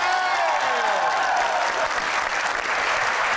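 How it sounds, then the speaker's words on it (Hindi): Audience at a Pakistani TV show applauds for Lahore Qalandars supporters, steady dense clapping and crowd noise filling the whole stretch at close, even loudness. "लाहौर कलंदर के तालियां बजाएं"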